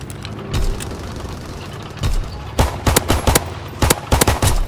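Video game gunfire during a castle battle, loud bursts of rapid automatic shots in several clusters separated by short gaps, close and punchy over a low background rumble.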